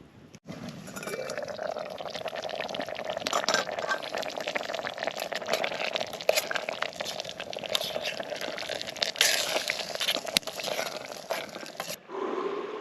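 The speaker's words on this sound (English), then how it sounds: "give that a stir around and let it simmer" A lidded pot of coconut cream curry simmers over an open campfire, giving a steady bubbling and sputtering close by with small pops and crackles throughout and a brief clunk near the end.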